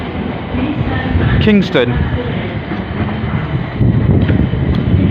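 A train passing through Clapham Junction station rumbles and rattles close by, with a brief high squeal of wheels, while someone talks over it and wind buffets the microphone.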